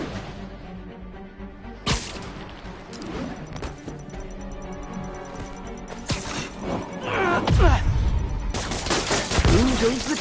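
Dynamite bombs going off in the video game Spider-Man PS4, a loud sharp blast followed by further crashing explosions and debris rumble, building to heavier detonations near the end, with no speech.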